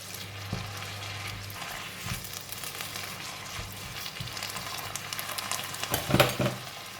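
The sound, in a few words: stir-frying bean sprouts with salted fish and spring onions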